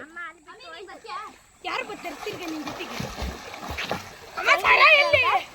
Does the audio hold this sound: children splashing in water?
yes